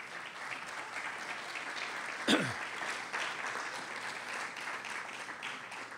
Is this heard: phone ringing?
no